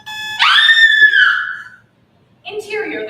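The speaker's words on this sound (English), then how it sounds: "A thud and a loud female scream." A loud female scream rises and holds for over a second in a bedroom scene, then fades, followed after a short silence by a shorter cry or vocal burst.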